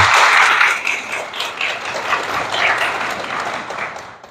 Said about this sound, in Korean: 그냥 앉아서 이렇게 박수 부탁드립니다.